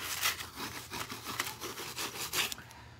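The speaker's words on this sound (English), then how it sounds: "Then I'm gonna take my little scrubber and come through here." A small scrubber rubbing back and forth over a foil stencil on a metal casting, quick rhythmic scratchy strokes close up, with no voices.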